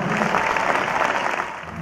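Festival crowd at a folk festival in Colonia Alpina, Santiago del Estero, applauding loudly in a dense, continuous burst that holds steady throughout.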